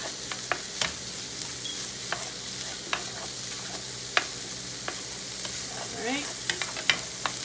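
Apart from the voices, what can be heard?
sweet potato, bacon and chorizo hash frying and being stirred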